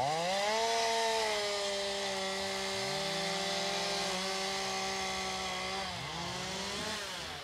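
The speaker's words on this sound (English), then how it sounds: "All the saws are working at one time." Power saws running together, loud and continuous, with several steady engine drones overlapping and shifting in pitch throughout, no voices.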